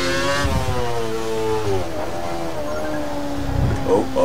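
A Formula 1 car engine in F1 2013 screams loud and close, its pitch climbing and then dropping sharply with each gear change as the car accelerates.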